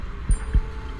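A heartbeat sound effect gives two deep, close thumps about a quarter second apart over a low hum, with no voices.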